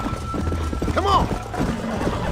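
A horse gallops in the video game Red Dead Redemption, a rapid clip-clop of hooves running under someone talking excitedly, with a brief whinny-like cry in the middle.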